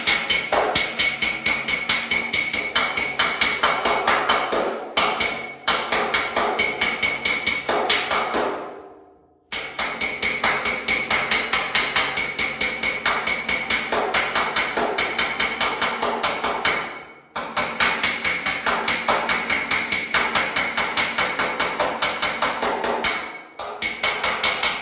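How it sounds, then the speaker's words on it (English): Rapid, steady hammer strikes on a 1968 Camaro's metal body ring out with a bright metallic ping, continuous and close, with a couple of brief pauses between bursts. "you'll be able to hear the hammer on when I hit. It'll ping like that."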